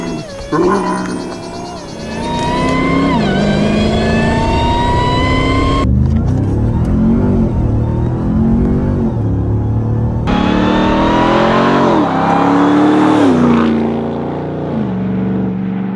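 A 2024 Ram TRX Final Edition pickup's V8 engine revs hard and repeatedly, rising and falling in pitch with a throaty roar, loud and close throughout with no talking.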